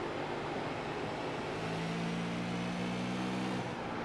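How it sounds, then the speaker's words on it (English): Race cars at Five Flags Speedway, a steady distant engine drone with a rising tonal whine as a car works through the circuit, moderately faint and alone. "they sound really rad, a lot different than some of the other cars we cover"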